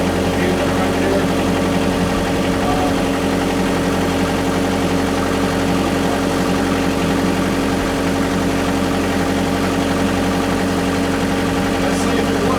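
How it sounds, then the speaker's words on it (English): A Kubota KX121 excavator engine, flood-damaged from a hurricane, runs at a steady idle with a constant droning rumble and even vibration throughout, close and loud with no breaks. "So let's crank her up and see if it starts."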